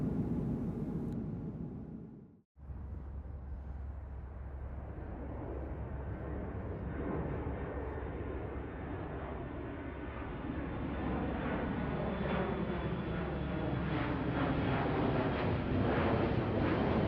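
Airplane taking off, used as a sound effect in a cozy audiobook: a steady, broad jet roar builds gradually and grows louder over about fifteen seconds after a brief cutout, with wind-like rushing and no voices.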